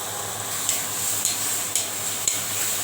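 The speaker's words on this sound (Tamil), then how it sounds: "இன்னும் கொஞ்சம் வெங்காயம் வதங்க கூழ் மாதிரி வதங்கணும்" Onions sauté in a pan until soft and pulpy, a steady close sizzle broken by several sharp ladle scrapes and taps at regular intervals, with no voices.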